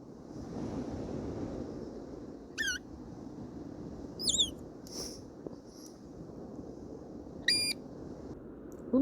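A few brief high-pitched electronic chirps and beeps sound sporadically over a steady windy, rushing background.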